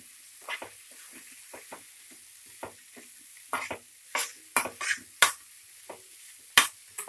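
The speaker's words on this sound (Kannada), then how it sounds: "ಈಗ ಹಸಿ ಕಾಯಿ ತುರಿ ಮತ್ತು ಹುಣಸೆಹಣ್ಣು ಹಾಕ್ಕೊಳ್ಳಿ. ಚೆನ್ನಾಗಿ ಮಿಕ್ಸ್ ಮಾಡ್ಕೊಳ್ಳಿ. ಇದೊಂದು 30 ಸೆಕೆಂಡ್ ಫ್ರೈ ಮಾಡಿಕೊಂಡ್ರೆ ಸಾಕು" Grated fresh coconut and tamarind frying briefly in a pan, a quiet sizzle under crisp, irregular stirring clicks and scrapes that grow louder and sharper toward the end.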